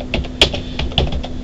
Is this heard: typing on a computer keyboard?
yes